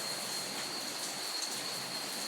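Sudden rain pours down in a dense, steady hiss of drops on surrounding surfaces, loud and continuous without a break, with no voices.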